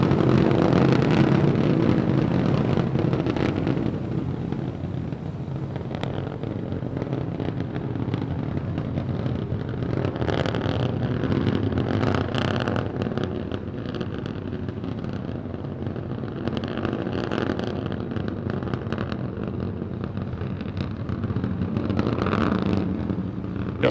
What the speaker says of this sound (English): we get a view of the three Raptor engines as we're powering our way to 10 kilometers altitude